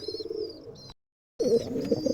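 Giribaz pigeons from Rajshahi give low, soft coos up close, broken by a brief full silence partway through, with no one talking.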